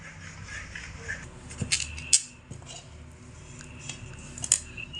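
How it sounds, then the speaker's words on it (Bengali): Semolina dough stirred steadily in a pan over medium heat, with soft scraping and a few sharp spoon clinks against the metal, close up over a low background rumble. "এইভাবে অনবরত নাড়াচাড়া করে সুজির ডোটা তৈরি করে নিতে হবে"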